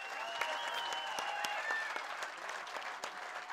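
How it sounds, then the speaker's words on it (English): Audience applause at a live fishing tournament weigh-in, a steady wash of clapping from a crowd honoring the boat skippers, with sharp individual claps standing out and a faint tonal whistle early on. "So I would like to give a big round of applause for all the skippers."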